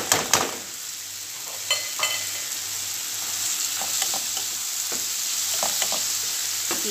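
Bitter gourd (ampalaya) sizzles in a hot pan with a steady, crackling fry close by. Repeated scraping clicks from stirring break in every second or so, with no voices.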